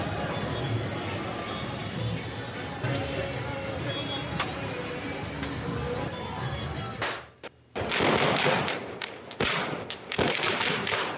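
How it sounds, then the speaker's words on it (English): Crowd noise and chatter at a celebration in Jammu and Kashmir carry on before a run of sharp, loud firecracker bursts pops off in quick succession near the end. "celebrated the occasion with burning firecrackers and lighting lamps"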